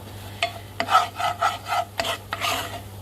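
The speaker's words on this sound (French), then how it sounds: "Je vais bien faire revenir le beurre avec la farine." Butter and flour cook together in a pan as a roux for a cheese béchamel, giving close scraping strokes of a spoon in a loose rhythm over a low, steady sizzle.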